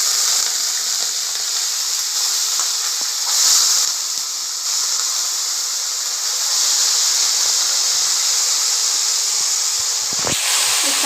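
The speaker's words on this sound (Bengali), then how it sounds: "আলু আর পেঁয়াজ এরকম করে কুটে নিয়েছি, তেল গরম করতে দিয়েছি। এবার তেলের মধ্যে দিয়ে দেবো।" Chopped potatoes and onions hiss and sizzle loudly in hot oil, a steady bright frying noise that holds throughout and swells slightly at moments, with no talking.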